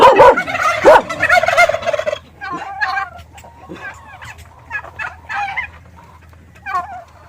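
Loud turkey gobbles up close at first, followed by a scattering of quieter clucks and gobbles from several turkeys over a low steady hum.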